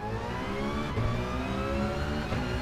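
A GT by Citroën Gr.4 race car with a 5.4-litre 32-valve Ford Modular V8 and sequential seven-speed gearbox, heard from the cockpit at Monza in GT Sport, revs hard under steady acceleration, a dense, loud, continuous engine tone with no talk.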